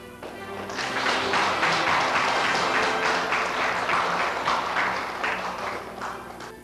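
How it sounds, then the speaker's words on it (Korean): Guests at a Korean traditional wedding ceremony clap together in a steady, dense round of applause that swells in and holds loudly for several seconds before easing slightly. "손님들은 일어나셔서 박수로 답례해 주시기 바랍니다"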